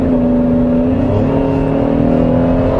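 A Chevrolet Traverse with a naturally aspirated engine is accelerating from 70 km/h, heard from inside as a steady, loud engine drone with a faint rising hum and no voices.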